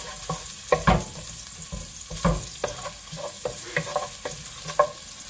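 Onions frying in a pan for a dalag fish dish, a steady low sizzle close up, broken by repeated scraping stirs and clacks of a utensil against the pan, with no voices.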